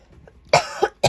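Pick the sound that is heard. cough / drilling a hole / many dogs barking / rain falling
cough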